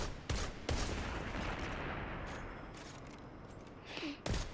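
Gunfire in the Destiny 2 video game during a solo Grandmaster Nightfall, with a few sharp shot bursts standing out over a steady rumbling game background, fairly quiet overall.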